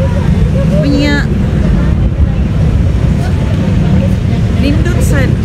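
Steady wind buffeting the microphone over rushing water and a low engine hum, with faint chirps of birds now and then.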